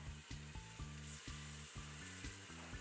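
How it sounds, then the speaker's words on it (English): A few pieces of pork sear in an Instant Pot, giving a soft, steady sizzle with a faint rhythmic low hum pulsing underneath. "Hear that nice sizzle."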